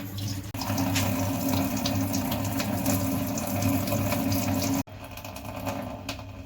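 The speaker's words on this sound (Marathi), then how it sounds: "आता मी पाणी काढून टाकते रव्यामधलं पाणी आहे ना भिजत केलेलं ते मी पाणी काढून टाकते" Water pours steadily out of a vessel of soaked semolina, a continuous close splashing stream with a brief pause, being drained while making kurdai.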